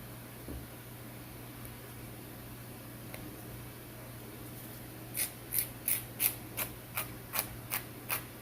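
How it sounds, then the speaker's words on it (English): Coarse nail file rasping across acrylic nails during shaping, a quiet steady rubbing at first, then about nine distinct rhythmic strokes near the end, close and soft. "which you will when using coarser file, I strongly recommend that you try to make sure you file them off so you can get a better look at your shape."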